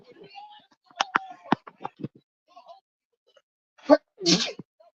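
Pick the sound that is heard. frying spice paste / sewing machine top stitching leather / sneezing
sneezing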